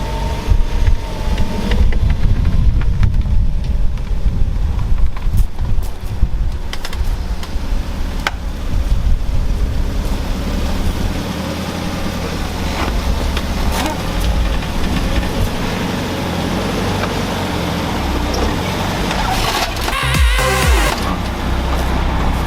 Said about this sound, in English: I'm going to whack the car up onto these ramps, which actually jack up